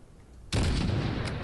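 A single heavy rifle shot in the Modern Warfare 2019 video game, a sudden loud boom that breaks out after a quiet moment and rolls on in a sustained rumbling roar.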